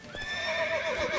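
A horse in The Witcher 3 neighs in a long, wavering whinny over steady clip-clop hoofbeats, close and fairly loud, with no talking.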